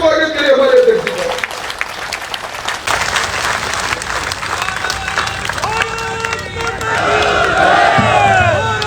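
A crowd at a BJP rally in Jhunjhunu, Rajasthan applauds steadily to welcome state party president C.P. Joshi. The clapping is loud and sustained, with crowd noise and a voice rising near the end.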